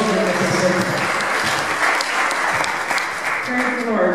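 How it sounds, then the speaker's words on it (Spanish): A church congregation gives warm applause for a guest, sustained steady clapping with voices talking over it throughout. "Please give her a nice warm hand."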